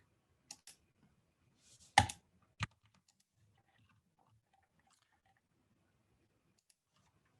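Computer mouse clicks come as a few sharp, isolated taps with one tight double click in the middle, close and crisp against near silence, made while selecting edges in Ansys Mechanical.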